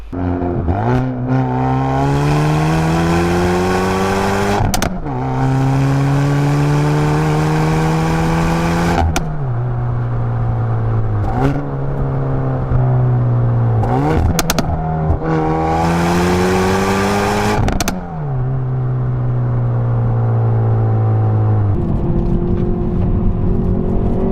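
A Hyundai i30N hot hatch engine revs hard through repeated gear changes while driving, climbing in pitch then dropping at each shift, loud and close, with no talking.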